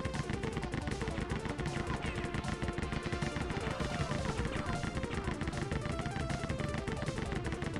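Rapid, continuous gunfire from the Rise of the Triad video game, dense bursts of shots rattling steadily throughout at a loud, even level with no pauses.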